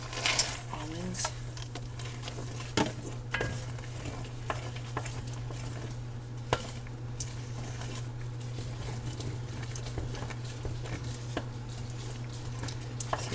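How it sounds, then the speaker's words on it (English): A spoon scrapes and stirs smoked almonds through a thick, cooling brittle candy mixture in a pot, soft irregular clicks and scrapes over a steady low hum, fairly faint. "Get those stirred in really well."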